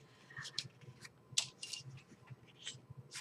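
Scissors snip through paper for a small 4x6 baby album, a handful of quick, crisp cuts in irregular succession, close up and quiet with no voices.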